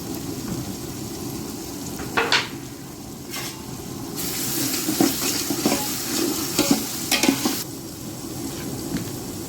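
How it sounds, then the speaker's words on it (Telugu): Curry leaves and mint fry in a pan with a constant loud sizzle, marked by repeated spatula scrapes and stirs and a sudden hissing surge in the middle, close up with no talking. "కరివేపాకు పుదీనా వేపిస్తాం"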